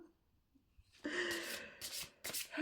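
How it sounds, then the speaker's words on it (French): A deck of playing cards shuffled by hand, a few quick riffling bursts after a near-silent start, close and soft. "vous voyez, je mélange. Je bats, je bats, je bats."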